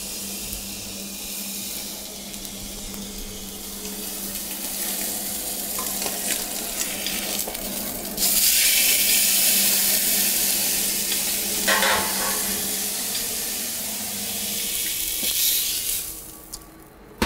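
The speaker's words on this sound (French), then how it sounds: "nous avons coloré notre poitrine de bœuf pinoir" Steady loud sizzling of beef brisket searing in a hot pan, a continuous close hiss that swells for a few seconds midway, with no talking.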